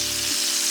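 Bacon sizzles and fries in a pan with a bright, continuous crackle, close and loud, over a faint low hum.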